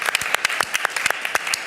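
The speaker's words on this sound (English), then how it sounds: "Let's give him a round of applause." Audience applause at a school district board meeting, a short burst of close, rapid clapping from a modest crowd, with no talk over it.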